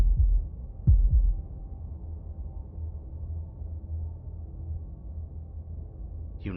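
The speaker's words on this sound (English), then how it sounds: "That was the sound of a heartbeat" In the game Slay the Princess, a deep, muffled heartbeat thuds twice near the start, low and heavy, over a dark droning hum that carries on alone.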